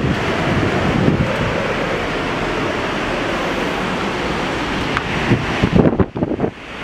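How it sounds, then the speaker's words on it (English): Strong wind buffets a seaside balcony at night in Destin, Florida, a loud continuous roar with heavy gusts battering the microphone, mixed with surf-like rushing and a few sharp knocks near the end. "it's gonna be freaking loud because it's so windy out here."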